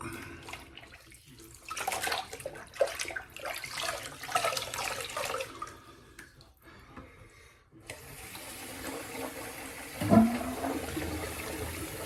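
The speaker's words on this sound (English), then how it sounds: "Run another bowl of hot water for my head shave and my cleanup afterward." Hot water running from a tap into a bowl, ready for a straight razor head shave, a steady splashing stream lasting several seconds with a brief abrupt change partway through.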